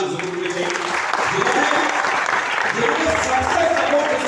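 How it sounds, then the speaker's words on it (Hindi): Audience at a network marketing gathering in Raipur breaks into sustained, dense applause, loud and even throughout with a faint murmur of crowd underneath. "सब एक जोरदार ताली जरूर होनी चाहिए"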